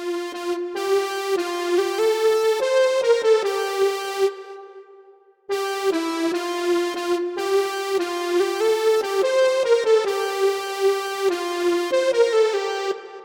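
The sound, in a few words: synth lead melody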